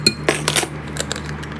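Orange pigment powder stirred into a container while making a shellcracker sunfish lure, giving light clinking and scraping taps, a few sharp strikes spread unevenly over a steady low hum.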